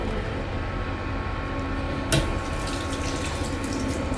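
Water tap running in the toilet of an Avanti Evero train, a steady close wash of flowing water over the constant hum of the moving train, with a brief louder splash partway through and no talking.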